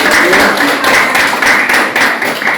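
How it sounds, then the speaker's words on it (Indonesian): Students in a classroom clap together in steady, fairly loud applause that carries on through the whole stretch and is heard up close. "tepuk tangan untuk Fernando yang sudah menambah"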